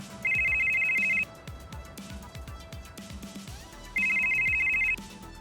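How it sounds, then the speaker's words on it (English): A phone rings for an incoming call, playing two bursts of a steady electronic trill separated by a pause, heard clearly over faint background music. "Kaze, your phone rings."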